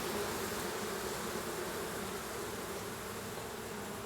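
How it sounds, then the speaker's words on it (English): Bees buzz steadily around a Layens hive, a dense close continuous drone with no voices. "We got some bees."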